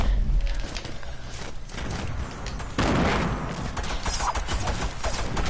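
Gunfire in an online shooter game crackles as dense, continuous bursts and booms, loud and close throughout with a sharper surge midway, with no clear talk over it.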